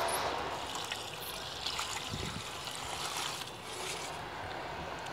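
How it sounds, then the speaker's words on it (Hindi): Water is poured onto soil freshly sown with ridge gourd seeds, a soft continuous splashing and trickling close by with a brief low thump partway through, no speech. "और अब हम इसमें दे देते हैं पानी।"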